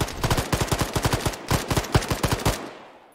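Automatic weapons fire in the video game Arma 3 come in rapid, loud, close bursts of sharp shots with brief gaps, then fade into a short echoing tail.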